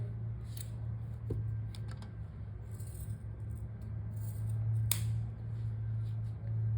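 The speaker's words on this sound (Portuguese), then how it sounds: "eu vou cortar aqui o meu fio no mesmo sentido que eu comecei" Scissors snip crochet yarn with a few faint, crisp clicks over a steady low hum in a quiet room, with no talking.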